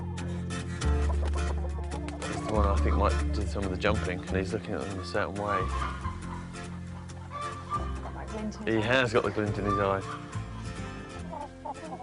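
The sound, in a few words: chickens and cockerels clucking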